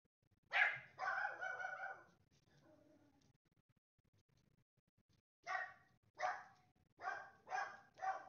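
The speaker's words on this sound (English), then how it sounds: "Oh, what are you guys barking about?" Several dogs bark in short bursts, two quick barks near the start, then a run of four or five sharp barks a few seconds later, fairly close and loud against a quiet room with faint low hum.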